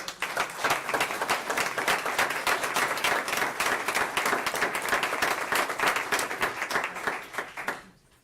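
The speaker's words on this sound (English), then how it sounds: "applaud you." An audience at a school district board meeting applauds teachers, principals and administrators, with dense, steady clapping from many hands filling the room for about eight seconds before quickly fading out.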